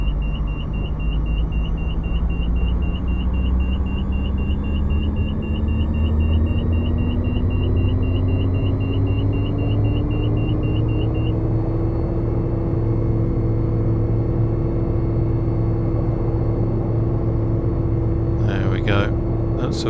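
A Hughes H500c helicopter in Microsoft Flight Simulator spools up as the throttle opens, giving a loud, steady turbine whine and rotor rumble that slowly rises in pitch. A faint repeating beep sounds partway through, and a brief clatter comes near the end.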